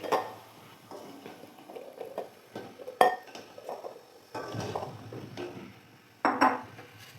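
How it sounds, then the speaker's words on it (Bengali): Eggs lowered one at a time into rapidly boiling water in a wok, giving a few separate clinks and knocks against the metal over a bubbling background, with louder impacts near the middle and at the end. "এরপর আমি ডিমগুলো এক এক করে দিয়ে দিচ্ছি।"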